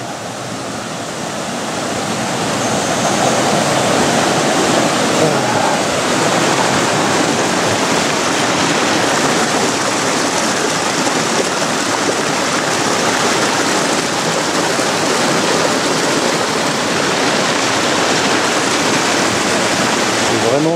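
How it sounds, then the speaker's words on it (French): Water streams and trickles steadily beside a river on a hiking trail in the Creuse, a dense continuous rush that rises in the first seconds and then holds loud and unbroken throughout. "C'est vraiment sympa, ça ruisselle de partout."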